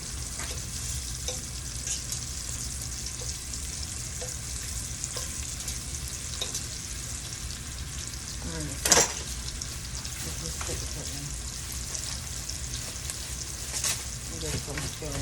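Cooked shrimp sautéing in a pan for Alfredo pasta, a steady close sizzle with scattered clinks and scrapes of stirring throughout and one sharp utensil knock midway.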